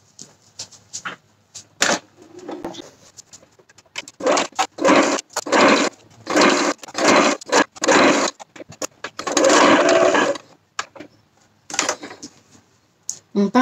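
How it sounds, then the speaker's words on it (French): A sewing machine stitches sleeve seams on a Fôlô top, running in short bursts of mechanical whirring separated by brief pauses, close and fairly loud, with no talking. "Donc là, je vais passer à la couture."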